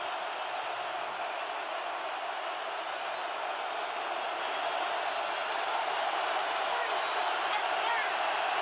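Dense, loud roar of a stadium crowd at a Seahawks home football game against the Panthers, a steady wall of noise with rising swells of cheering throughout.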